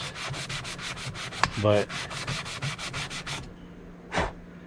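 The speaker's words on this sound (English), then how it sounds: "if you give the surface a little sanding, especially plastic, which is usually nice and smooth" Hand sanding of a smooth plastic side-view mirror surface on a 1998 Jeep Cherokee: steady rapid back-and-forth scratchy strokes, close and fairly loud, broken by a brief clunk and a short scrape near the end.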